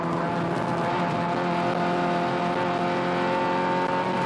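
A touring race car accelerates hard down a straight during the 1987 Willhire 24 Hour endurance race, its engine note a loud, sustained, steady roar that fills the whole stretch with no voices over it.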